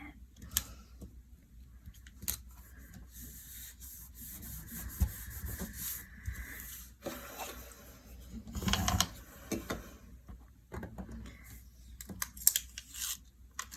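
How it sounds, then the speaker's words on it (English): Paper tearing slowly during planner setup, soft intermittent ripping and rubbing scrapes, close and quiet, with a louder stretch partway through and no talking. "Oh no, this is tearing the paper."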